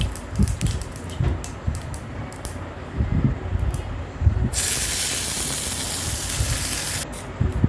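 Mustard seeds sputter and crackle in hot oil while a Tamil tomato kara chutney tempering cooks, with irregular pops, then a loud steady hiss for about two and a half seconds, and sharp crackles again near the end.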